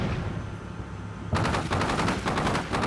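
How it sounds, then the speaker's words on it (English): Heavy weapons fire in the Combat Mission Shock Force 2 war game: muffled battle rumble, then sudden loud bursts of rapid automatic gunfire that repeat in quick volleys near the listener, with no voices. "so we are shooting heavy weapons"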